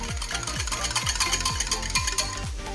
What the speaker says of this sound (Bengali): দই খুব ভালোভাবে ফেটিয়ে নিয়েছি